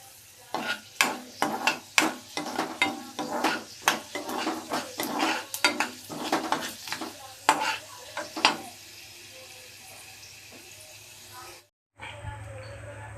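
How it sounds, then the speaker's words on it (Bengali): Small shrimp frying in oil spiced with black cumin, dried chili and garlic, with repeated utensil scrapes and stirring knocks against the pan over a steady sizzle, then a quieter stretch near the end. "আমি একটুখানি ছোট ছোট চিংড়ি মাছ আমি একটু ভেজে নেব"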